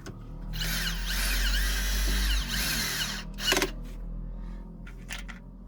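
A power drill driving screws into a soft-material counter cabinet, whirring in a long steady run and then a short burst, close and clear with light clicks afterward.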